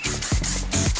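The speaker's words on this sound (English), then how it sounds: "Spray the top a little bit" Bursts of hairspray hiss onto the top of a bride's hair in short, close, fairly loud pulses, with rubbing and brushing textures between the sprays.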